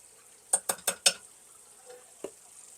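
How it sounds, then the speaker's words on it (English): Hamburger soup being stirred in a pot, with four quick spoon clinks against the pot's side close together, then a softer single knock after a pause, over a faint background hiss. "Give that a stir."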